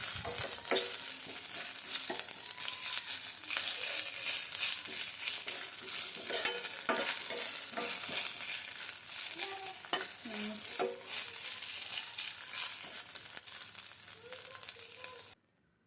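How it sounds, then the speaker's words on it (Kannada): Ginger garlic paste frying in oil, a close, crackling sizzle under frequent spatula stirs and scrapes that fades out at the end, with no talking. "ಇದಕ್ಕೆ ಒಂದು ಅರ್ಧ ಸ್ಪೂನಷ್ಟು ಶುಂಠಿ ಬೆಳ್ಳುಳ್ಳಿ ಪೇಸ್ಟನ್ನು ಹಾಕಿ ಚೆನ್ನಾಗಿ ಎಣ್ಣೆಯಲ್ಲಿ ಫ್ರೈ ಮಾಡಿಕೊಳ್ಳಿ"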